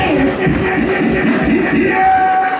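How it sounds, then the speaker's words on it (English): A festival crowd at Chutney Glow 9.0 roars and cheers in a loud, continuous wash of voices and whoops, with no break, close and full. "You guys give a big round of applause to INDs, right?"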